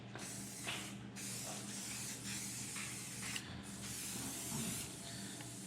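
SC1 cleaning spray mists onto a UTV in a string of short, close hissing bursts separated by brief pauses.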